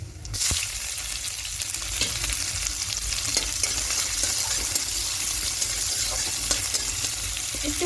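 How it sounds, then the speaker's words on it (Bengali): Chopped onions with dried red chillies frying in oil in a pan for vegetable masoor dal, a constant close sizzle with occasional stirring scrapes and clinks. "একটু হালকা করে পেঁয়াজগুলো লাল করে ভেজে নিয়েছি"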